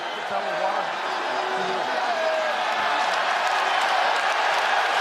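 Crowd noise from a sold-out Coca-Cola Arena in Dubai at a PFL MMA fight, a steady dense roar from the packed audience that holds throughout, with a commentator talking over it.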